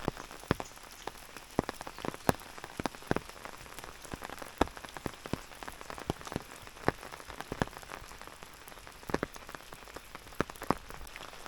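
Heavy monsoon rain falling in rural Konkan near flooded farm fields, a dense patter of drops striking surfaces close by, with sharper individual taps scattered throughout.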